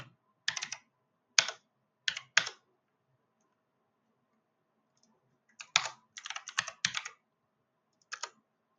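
A computer keyboard is typed on during a JavaScript coding session, in short bursts of quick, crisp key clicks split by quiet pauses, close and alone with no voice.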